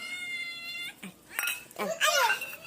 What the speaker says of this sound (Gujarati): બિલાડી આવી છે